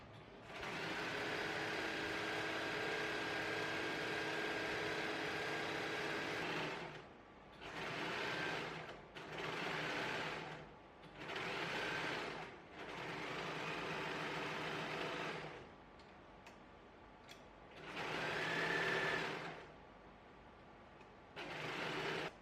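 Sewing machine stitching a pocket for a belt bag, running in several bursts of steady mechanical whirring with short pauses between, close and loud with no talking.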